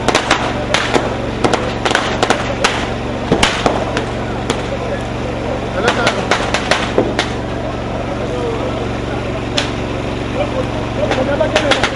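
Fireworks going off in the streets of Lagos on New Year's Eve, with repeated sharp cracks and bangs scattered over a steady crowd and traffic din. People can be heard talking throughout.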